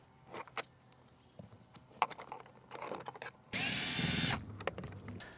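Interior trim being pried off a Toyota 100 Series Land Cruiser door during window track rubber replacement: scattered plastic clicks and knocks, then a loud sustained rasping scrape, followed by a few more taps.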